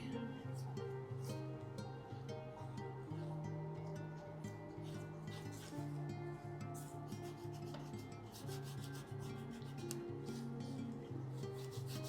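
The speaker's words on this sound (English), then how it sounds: "Looks like I'm wiping it all away, but it did lighten it significantly." A cloth rubs steadily back and forth across a painted journal page to wipe off paint, a soft, faint scrubbing that repeats at close range.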